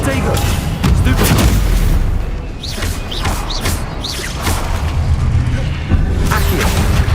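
Confringo spell explosions blast in Hogwarts Legacy combat, a loud run of booming impacts and crackling bursts, some strikes coming in quick succession, with spell-casting voices mixed in.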